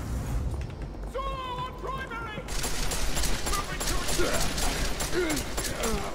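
Video-game gunfire in Deus Ex: Mankind Divided: after a couple of seconds of quieter whistling tones, dense, loud, close bursts of shots erupt and continue steadily to the end, layered with clattering mechanical noise.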